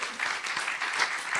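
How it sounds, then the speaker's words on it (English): A church congregation applauds at a Friday men's meeting, a steady dense wash of clapping from many hands that holds at an even level for the whole stretch. "Or clap your hands for them."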